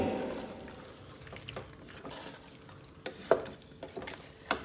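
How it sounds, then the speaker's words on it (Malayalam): Chicken is stirred into masala in a pan for a chicken madhooth dish, with soft sizzling and a few sharp scrapes and clinks of the spoon against the pan, close and fairly quiet. "അടുത്തതായിട്ട് നമ്മുടെ ചിക്കൻ ഇതിലേക്ക് ഇട്ട് നന്നായിട്ടൊന്ന് മിക്സ് ചെയ്ത്"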